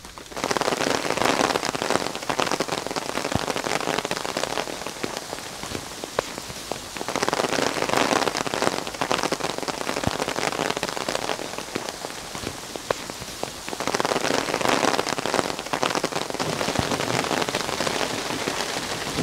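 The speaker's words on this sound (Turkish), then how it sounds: "Yağmur mu bu ya? Hayır, dolu yağıyor." Heavy hail pelts a camper van at a campsite, a dense, loud hammering hiss on the roof that surges and eases in long waves without pause.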